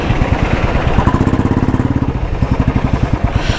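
A scooter engine drones loud and close at about 80 km/h, a rough, rapidly pulsing motor buzz mixed with wind rush that holds steady for a few seconds, with no speech.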